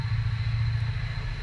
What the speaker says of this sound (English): that should be the train.